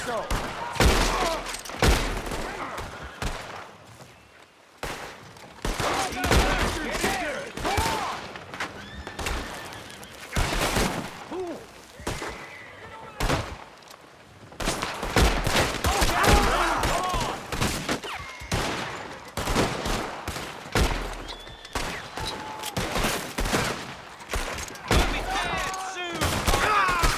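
Gunfire in Red Dead, a chaotic close-range fusillade of repeated gunshots in bursts, mixed with horses whinnying and hooves, and shouting voices over the fight.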